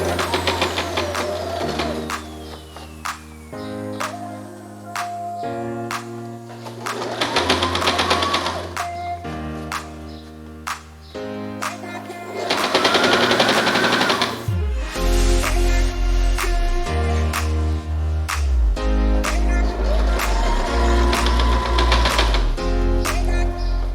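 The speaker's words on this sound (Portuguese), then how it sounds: "Eu começo dobrando e já costuro bem na borda para o acabamento ficar bonito." A sewing machine stitches along the folded edge of handmade espadrilles in loud, close bursts of rapid needle rattle separated by short pauses, with background music playing throughout.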